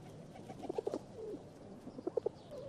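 Pigeons cooing in a few soft, low, throaty bursts, one cluster early and another near the end, fairly faint against a quiet background.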